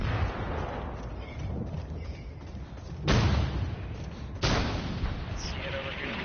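Mortar artillery fire in the Far Cry 5 video game: two sharp, heavy booming blasts about a second and a half apart, each with a loud attack and rumbling tail, over continuous gunfire and battlefield noise.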